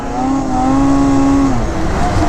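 A 2020 Arctic Cat Riot snowmobile engine roars loud and close during a wheelie attempt, holding a steady high drone that climbs in pitch before easing off, with no talk.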